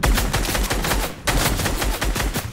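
Rapid automatic gunfire in a Fortnite match, loud and close, two sustained bursts of fast repeated shots separated by a brief break.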